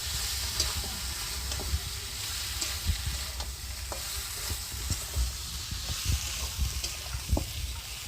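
Ginger and cumin paste sautés in a pan with a steady, close sizzle, broken by frequent scraping and tapping strokes of a spoon stirring it.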